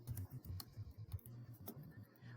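Keys tapped on a computer keyboard while entering a discussion post, a quiet run of irregular clicks with short pauses, close and soft, no talking.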